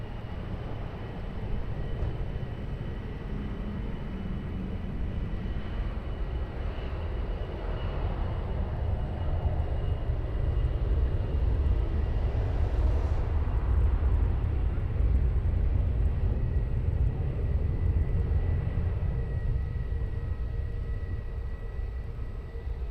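A jet airliner departing runway 20 at Lisbon Airport gives a long, steady, rumbling roar that swells slightly midway and continues unbroken, heard from a distance with no talking.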